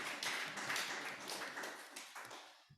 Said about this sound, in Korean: 잘 다녀오시라고 우리 격려의 박수 드렸으면 좋겠습니다